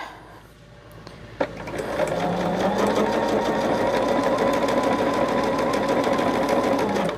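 A quiet start, a click, then a sewing machine runs steadily while stitching quilt binding, its rapid mechanical whir and needle chatter continuing to the end.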